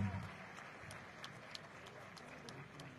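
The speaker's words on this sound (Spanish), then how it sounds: "Fuerte el aplauso." Crowd applause at the launch of a health caravan event in the Laguna region of Coahuila: a dense, steady wash of clapping with scattered sharper claps, continuous for the whole stretch.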